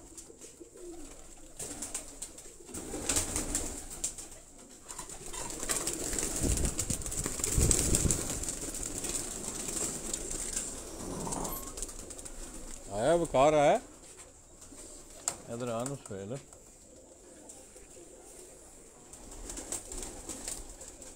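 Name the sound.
pigeons cooing in a loft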